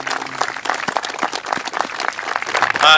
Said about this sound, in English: So round of applause for your MC and the senator from this district.